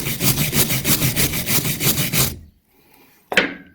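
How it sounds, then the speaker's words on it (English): A wire brush scrubs the small Japanese-standard screws of a Ford Courier alternator in a rapid, even back-and-forth rhythm of about a dozen loud, close, raspy strokes, then stops for a pause and ends with one sharp scrape. "Let's get a wire brush for"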